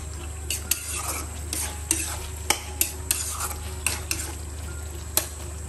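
A white curry with meat cooks in a pan while a spoon stirs it, sharp clinks against the metal recurring every second or so over a soft sizzle and a constant low hum.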